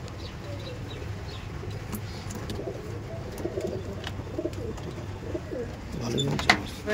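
A male and female pair of Madras pigeons brought from Delhi coo softly and repeatedly at a loft, their low burbling calls steady against light background noise.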